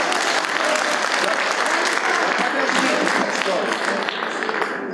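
An audience at an economic forum claps loudly and steadily for about five seconds, a dense, continuous wash of many hands that barely fades toward the end.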